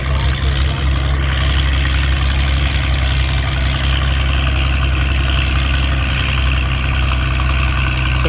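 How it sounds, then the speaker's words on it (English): An antique naturally aspirated Oliver diesel tractor runs at a tractor pull in Mt. Carroll, Illinois, its engine droning steadily and loudly with a deep, low rumble, while voices carry faintly over it. "Here comes the Diesel Oliver again."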